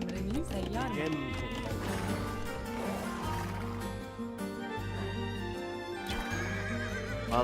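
Horses whinny and neigh repeatedly over a busy layer of Age of Empires II game music, with clip-clopping hooves and a sheep-like bleat mixed in.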